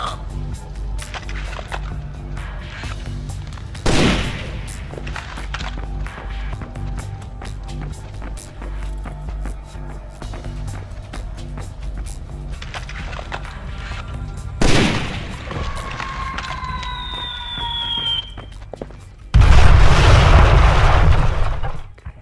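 Gunfire and heavy blasts from the PS2 game Splinter Cell Double Agent, Kinshasa mission: sharp booming impacts near 4 and 15 seconds over a steady battle rumble, ending in a long loud roaring burst.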